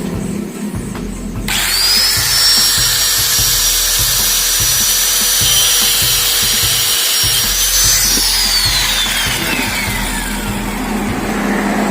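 Power tool cutting a motorcycle speedometer gearbox part, a loud steady high-pitched whine that starts after a short pause and runs continuously for several seconds before winding down, with a faint rattling underneath.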